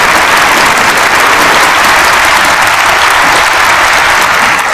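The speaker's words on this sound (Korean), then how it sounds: "뜨거운 감사의 박수를 부탁드리겠습니다." Loud, dense applause from a large audience at an outdoor rally in a station square, a continuous roar of clapping filling the whole clip without any speech.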